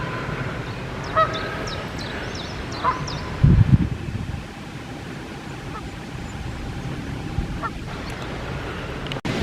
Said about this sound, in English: Obviously Canada geese,